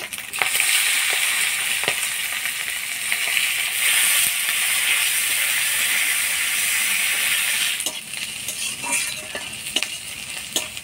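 Chopped onion and dried fish fry together in a hot wok, a continuous bright sizzle broken by repeated stirring scrapes and clicks, easing off slightly near the end.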